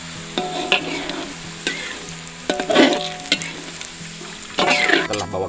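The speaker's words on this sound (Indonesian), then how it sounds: "Bikin goreng bawang." Shallots frying in a pan while being stirred, with bursts of crackling sizzle and scraping stirs coming in waves, loud and close, with no talking.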